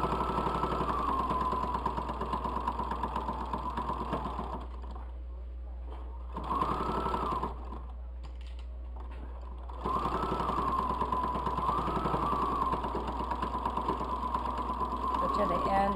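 A sewing machine stitches a fabric bowl cosy in fast, even bursts, pausing twice before running again, close and steady with a low hum throughout.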